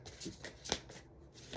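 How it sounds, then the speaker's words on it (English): Oversized tarot cards shuffled by hand, papery riffling and sliding in soft bursts with one sharper slap of the deck midway, close and fairly quiet. "There's the weirdest way to try to shuffle these."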